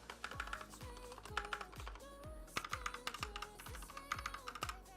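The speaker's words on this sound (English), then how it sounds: "You're getting really nice thock with the tiniest bit of ting from a keyboard" Rapid, steady typing on a Glorious GMMK 2 mechanical keyboard, a close run of deep, muted keystrokes with a faint metallic ring, no voices.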